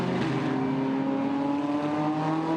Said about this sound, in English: Out of turn 3, Ferrari sprints away from the Porsche.